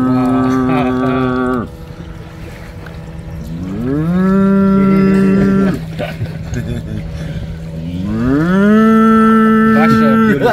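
A cow moos loudly and close by, three long drawn-out calls with short gaps between them, on a farm with steady background noise.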